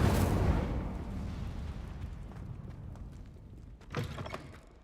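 Incendio fire spell cast in the video game Hogwarts Legacy, a loud booming whoosh of flame that rumbles and fades over several seconds, with a second smaller burst near the end.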